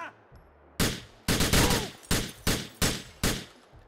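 Gunfire in the video game GTA IV: a long burst of rapid shots followed by five or six evenly spaced loud single shots, close and punchy with no talk over them.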